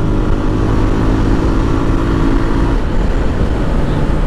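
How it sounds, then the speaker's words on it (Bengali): A Suzuki Gixxer Monotone motorcycle accelerates nearby with a loud, steady engine drone that swells slightly through the revs, no voices over it. "জিক্সার মোনোটোন বাইকটা যখন এক্সেলারেশন দিতেছি, এটা যে সাউন্ড"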